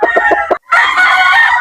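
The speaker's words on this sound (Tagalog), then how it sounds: "Gandang manok" A few short clucks from a breeding rooster on a rooster farm, a brief pause, then a loud, close rooster crow that holds for about a second.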